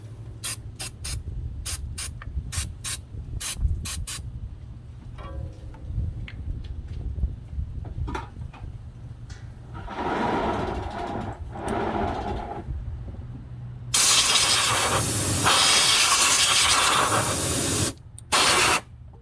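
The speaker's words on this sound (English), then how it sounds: "I'm gonna use electronic cleaner on that. Just give it a little spritz and then dry it off." Electronic cleaner sprayed onto distributor parts of a 1996 Yukon, loud close hissing spray bursts after a stretch of small clicks and handling noises, ending in a long continuous spritz.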